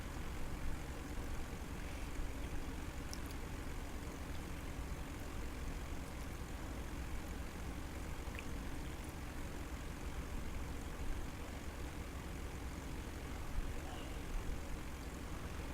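A simulated airplane in a flight simulator game rolls across airport tarmac, its engine holding a steady low drone from start to finish with no pauses.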